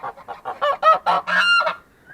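Domestic geese honking close by in a quick series of nasal calls that rise into a longer, louder honk before fading out.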